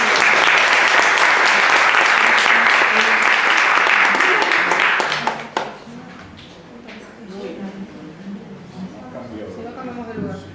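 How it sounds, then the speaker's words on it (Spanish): Audience applause at an academic panel rings out loud and sustained for about five seconds, then cuts off abruptly, leaving scattered taps and people talking. "le agradecemos con un aplauso"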